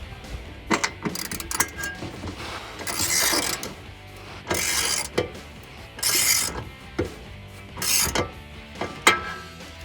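Running board bracket fasteners are snugged up on a 2019-2022 Silverado 1500, with repeated ratcheting clicks and short bursts of mechanical turning spaced a second or two apart, close by.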